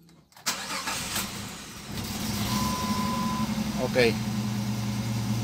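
A water pump's engine is primed and cranked, catching with a sharp start and then settling into a steady mid-pitched idle, while someone briefly speaks nearby.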